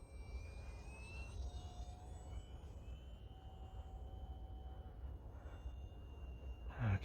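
A fast micro RC model airplane, a Cirrus SR22T replica, passes at a distance, its high-pitched electric motor whine drifting and shifting in pitch over steady outdoor wind noise.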